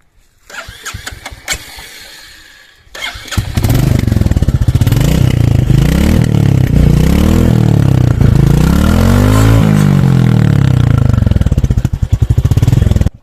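A Royal Enfield Classic 350 motorcycle engine cranks with a few sputters, then catches and settles into a loud, steady thumping idle with a few revs, heard up close.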